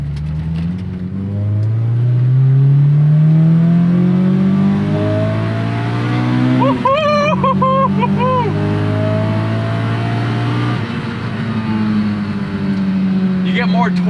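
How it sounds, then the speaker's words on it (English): Modified AP2 Honda S2000 with cable throttle, engine note rising and falling through downshifts with throttle blips, loud and close, with someone talking over much of it. "give the throttle a little bit more of a blip than some of the other S2000s I've driven"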